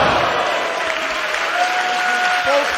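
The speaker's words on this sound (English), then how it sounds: "This crowd sounding their appreciation." A wrestling crowd at an OTT show applauds after a match, a dense, sustained wall of clapping filling the room throughout, with a commentator's voice faintly underneath.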